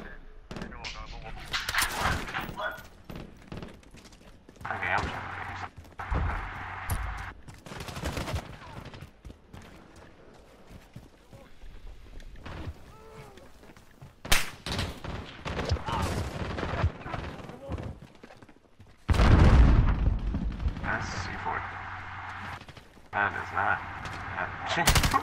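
Rapid bursts of weapon fire in Modern Warfare team deathmatch, loud clustered gunshots with pauses between volleys, and a player talking in between.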